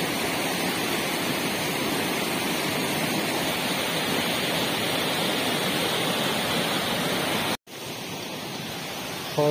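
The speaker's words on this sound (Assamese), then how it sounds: "এয়া বটাক, কাষতে আমাৰ তাত চিয়াং নদীখন এইখন" The Siang river at Botak flowing nearby, a dense continuous rush of water close to the microphone, steady and loud for most of the stretch before a brief cut near the end.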